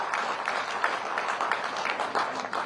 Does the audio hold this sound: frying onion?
no